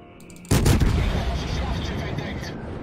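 A single sharp, heavy gunshot or blast in a video game, fired at opponents, landing abruptly and rolling off into a long, rumbling decay with a faint voice in the background.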